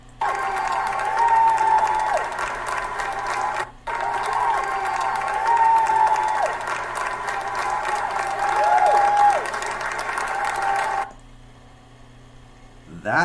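Crowd cheering and applauding steadily, with whistles and shouts rising over a dense roar that breaks briefly midway and fades out near the end.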